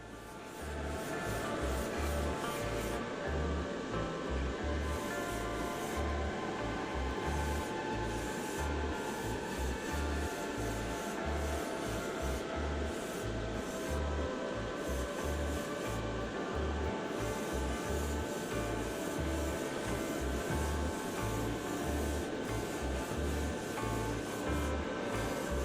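Airbrush spraying a second paint coat onto a model car body, a steady soft hiss with faint rhythmic pulsing from the compressor throughout, quiet and close, no talking.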